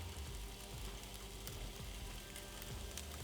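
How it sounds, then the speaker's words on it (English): Quiet, steady crackling sizzle of a stuffed pork chop frying on a hot griddle, a dense popping hiss with no voices. "You hear that sizzle?"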